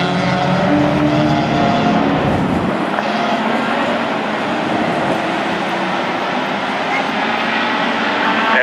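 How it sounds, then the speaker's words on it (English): V8 closed-wheel race cars powering through turns at Mission Raceway, a loud continuous engine roar that shifts in pitch as the cars pass, with a commentator talking over it. "as we round their way out through turn 2, over to turn 3, and the V8 power kicks in"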